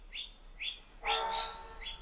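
Wild birds chirp outdoors on Sydney's North Shore, with several short, bright tweets repeating at an irregular pace, fairly close and clear against a quiet background.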